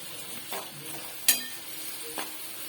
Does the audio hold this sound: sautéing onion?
yes